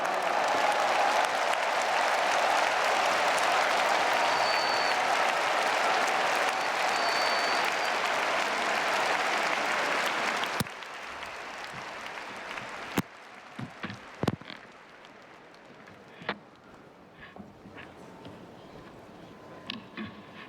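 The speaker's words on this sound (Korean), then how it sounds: "뜨거운 박수로 격려해 주시기 바랍니다" An audience at a large evangelistic rally claps loudly and steadily for about ten seconds to welcome a speaker, then the applause stops, leaving a quiet hall with a few scattered knocks.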